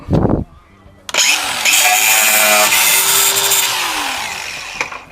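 A power tool cuts through the spot-welded rear valance of a Classic Mini, heard as a sharp knock followed by a loud, sustained grinding whine that slowly fades near the end, close up.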